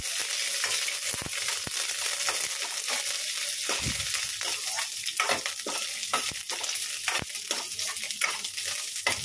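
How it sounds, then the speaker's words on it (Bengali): Curry leaves frying in hot oil in a pan over a low flame, giving a steady close sizzle with intermittent crackles and pops throughout. "ও লাস্টে কারি পাতাটা ভাজছি"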